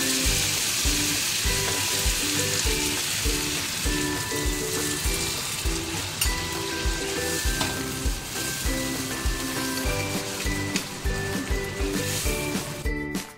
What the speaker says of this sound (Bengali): ইঁচড়টা আমার কষানো হয়ে গেছে, এবারে জল দিয়ে দেবো।